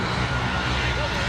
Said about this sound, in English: helicopter flies overhead, like a medevac helicopter